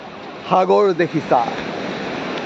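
Sea waves wash steadily at Juhu Beach in Mumbai, a soft continuous surf noise under a person speaking.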